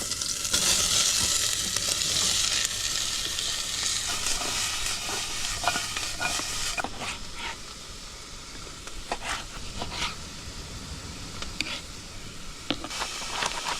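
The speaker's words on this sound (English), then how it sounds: "if we go onion and capsicum, we'll fry that in the pan" Onion and capsicum fry loudly in a pan during an outdoor vanlife cook, a dense continuous hiss and crackle up close with occasional clinks and stirring scrapes.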